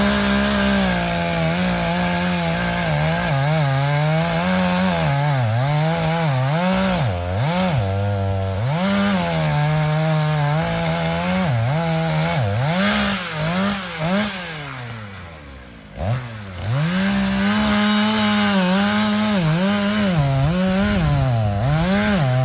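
A chainsaw cuts into a tree during farm land clearing, its engine loud and close, revving and bogging in repeated surges before briefly dropping off as the bar binds, then roaring back up.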